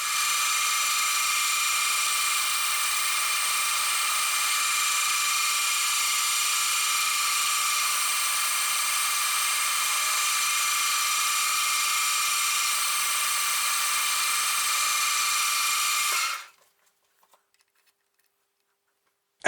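A power tool cuts down a metal key ring spacer by at least 3 millimetres. A steady, high-pitched whine with a faint rhythmic ticking runs for about sixteen seconds, then stops abruptly into near silence.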